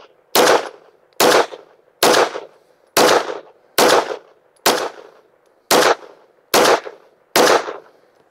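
Nine sharp pistol shots from a Glock fitted with a Fenix GL19R weapon light ring out outdoors at a steady pace about one per second, loud and close with brief echo tails.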